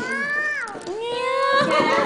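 A young child imitates a cat, giving two drawn-out, wavering meows, the first falling and the second rising then sustained, close and clear with no other talk.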